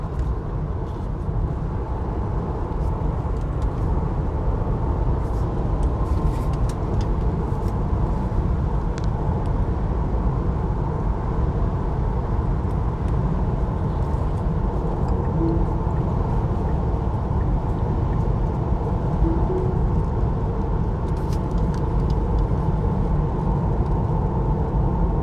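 A 2022 Tesla Model 3 Performance drives on the road past Spekkerød, with steady, loud road and tyre rumble throughout and no talking.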